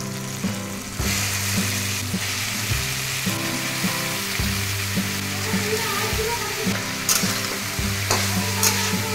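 Chopped snake gourd with green chillies fries loudly in a pan, a constant close sizzle broken by the scrape and shuffle of stirring, with a faint steady hum behind.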